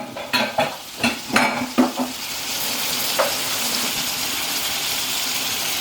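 Beef curry sizzles and bubbles in a pan, with a few sharp clinks and scrapes of stirring at the start, then a steady soft frying hiss that carries on alone.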